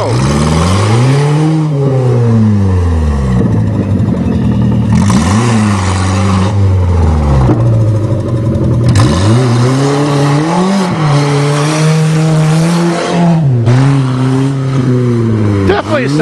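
A 1994 Volkswagen Jetta engine revs hard while driving, pitch sweeping up and down through repeated gear changes, loud and close with voices talking over it.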